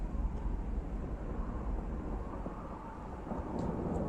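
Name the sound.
thunderstorm with thunder and rain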